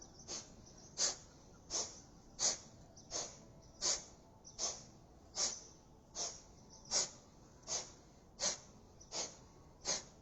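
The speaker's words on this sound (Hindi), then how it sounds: "सांसों की आवाज़ बाहर तक आनी चाहिए" Loud rhythmic yoga breaths during side twists, about fourteen sharp forceful exhalations at a steady pace, each a short airy burst with quiet gaps between, close to the mic.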